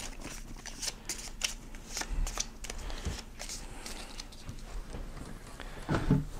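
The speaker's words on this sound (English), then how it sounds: "shuffle them up" A deck of board game cards for a fantasy monster game being shuffled by hand at close range, a steady run of soft riffling patters and flutters lasting several seconds with hardly any talk.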